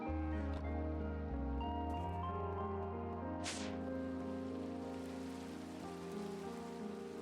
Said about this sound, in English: it seems like it rains almost every day in this mod pack